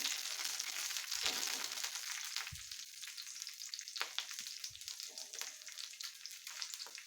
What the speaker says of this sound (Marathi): इथं जी तेल आहे त्याच्यामध्ये मी दोन बारीक चिरलेल्या मिरच्या घालत आहे तर मिरच्या पण छान भाजून द्यायच्या